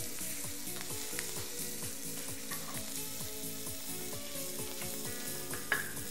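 Sesame seeds, urad dal and dried red chillies dry-roasting without oil in a small pan give a steady, close, even crackle with faint scraping stirs throughout and one sharper tick near the end; no talking.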